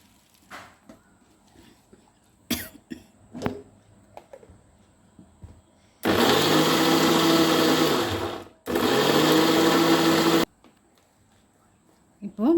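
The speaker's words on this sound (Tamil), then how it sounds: "புதினா எல்லாம் இந்த அளவு அரைஞ்ச பிறகு" A mixer grinder whirs loudly in two bursts with a short pause between them as it grinds mint leaves for chutney, after some quiet clinks and handling sounds.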